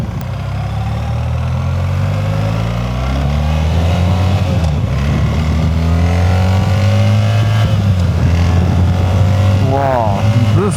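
A 2025 BMW R 1300 GS Adventure motorcycle accelerates hard, its loud engine note climbing in pitch and dropping at each smooth gear shift, with steady wind noise throughout.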